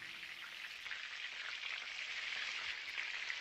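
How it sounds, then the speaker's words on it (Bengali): Suji, potato and soybean snacks frying in hot oil, giving a steady, even hiss and crackle like light rain that carries on throughout, quiet and close, with no voices. "এবার এইরকম ভাবে বাকি টিফিনগুলোও আমি ভেজে নিচ্ছি"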